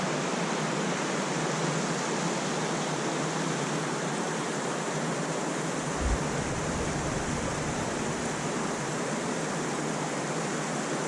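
Panther Creek in Gifford Pinchot National Forest flowing steadily, a loud unbroken rush of water that fills the whole scene, with no voices.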